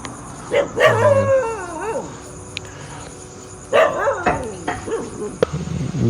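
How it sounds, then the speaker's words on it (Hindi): Dog at a homestay at night barking repeatedly in short loud bursts with yips and whimpering whines, close by, under brief talk. "कुत्ता कंटिन्यूस भौंके जा रहा है"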